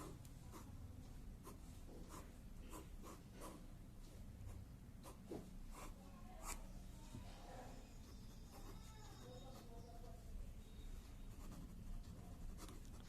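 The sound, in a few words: writing on a board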